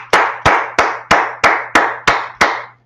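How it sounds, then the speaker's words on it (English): Hand clapping for the Lord during an online Lashwan Qadash holy-tongue class: eight sharp, evenly timed claps in a steady rhythm, close and loud, alone. "Let's clap it up for the Lord."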